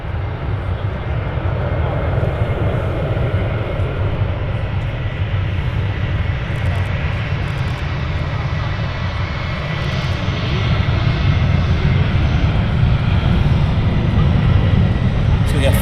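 An EasyJet airliner at Manchester Airport gives off a loud, steady jet engine roar that swells slightly toward the end, with people talking over it.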